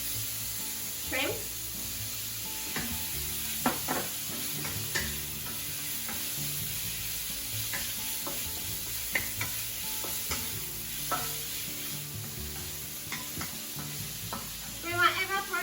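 Shrimp stir-frying in a wok for ankake yakisoba, a low steady sizzle broken by frequent clicks and scrapes of a utensil stirring, with no talk.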